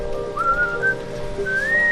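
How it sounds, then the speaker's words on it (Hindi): A person whistles a simple tune in a rainy village in Meghalaya, clear sustained notes rising and sliding, close and alone with faint background hum. "सीटी अच्छी बजा रहा है ना।"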